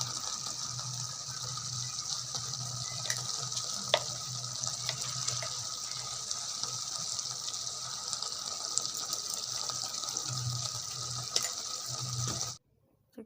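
Hot water pours steadily into a pot of masala chicken in a home kitchen, a continuous gushing, splashing stream lasting several seconds before cutting off abruptly, with no talking.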